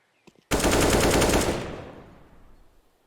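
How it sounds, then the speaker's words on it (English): A Mac-10 submachine gun fires in Counter-Strike, one loud, rapid automatic burst of about a second that then decays into a fading echo. "Kev just going for all the frags with the Mac"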